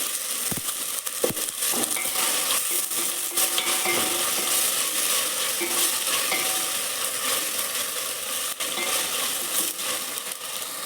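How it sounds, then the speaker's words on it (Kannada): Chopped garlic with ginger garlic paste sizzles steadily in a hot pan for pepper chicken, with a spatula stirring and scraping through it in irregular clinks and scuffs, close and continuous with no talking. "ಚಿಕ್ಕದಾಗಿ ಹೆಚ್ಚಿಟ್ಕೊಂಡಿರೋ ಬೆಳ್ಳುಳ್ಳಿ ಇವಾಗೆಲ್ಲ ನೀಟಾಗಿ ಮಿಕ್ಸ್ ಮಾಡ್ಕೊಳ್ಳಿ"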